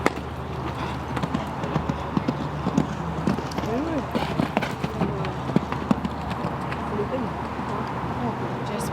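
A showjumping horse canters around an outdoor event course, its hooves thudding in a steady rhythmic clip-clop under continuous commentary, with occasional birdsong in the background.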